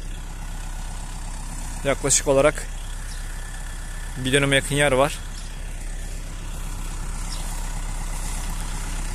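Tractor engine idling steadily in a field being prepared for green manure, a low continuous rumble throughout, with someone briefly talking over it twice.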